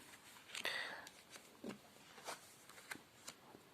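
Quiet rustling and soft flicks as playing cards are shuffled and turned over, followed by a few scattered light taps.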